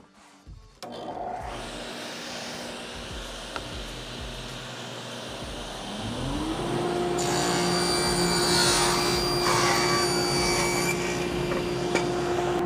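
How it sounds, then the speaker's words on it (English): A table saw and a shop dust collector start up as a blast gate opens: a steady motor hum, then a louder, fuller roar with a rising whine joining partway through, running continuously and close. "When I turn on the table saw, what I'm expecting to happen is the blast gate to open and the dust collector to turn on."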